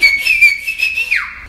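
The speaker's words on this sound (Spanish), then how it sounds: "La otra es chiflar." A single loud, sustained whistle with a wavering pitch that slides downward at the end, blown without fingers, close to the listener.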